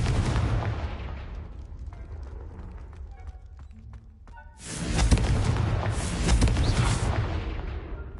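Confringo blasting spells in Hogwarts Legacy set off a rush of booming explosions and crackling debris after a quieter stretch with a voice speaking, the blasts loud and close.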